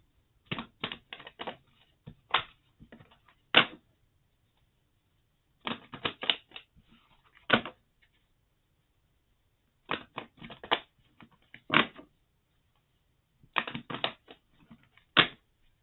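Oracle cards being shuffled by hand, in four bursts of rapid crisp riffling clicks separated by pauses, close and fairly loud with no talking.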